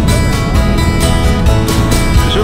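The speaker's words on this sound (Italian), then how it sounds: "C'è solo un po' di vento, chiudiamo l'ombrellone." Wind at a beach in Vignola Mare, Sardinia: loud, continuous buffeting with a low rumble close to the microphone and no talking.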